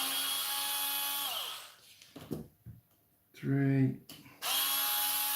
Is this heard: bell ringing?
no